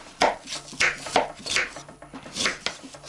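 A knife chops an onion rapidly on a board, steady rhythmic thuds close by with slicing crunches, no talking.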